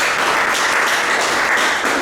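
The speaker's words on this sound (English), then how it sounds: "That's a good place to clap." Audience applause fills the room at a gathering, a steady, dense wash of many hands clapping at once, loud and continuous with no voices standing out.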